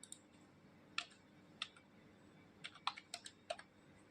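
A username and password go in on a computer keyboard: sparse, distinct key taps in small clusters, crisp and close against a quiet background.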